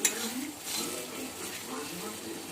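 Chicken pieces and potatoes with spices fry in a pan, giving a steady soft sizzle with scraping stir and utensil clinks against the pot, close and moderately loud.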